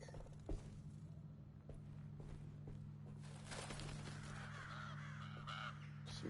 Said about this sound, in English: Some birds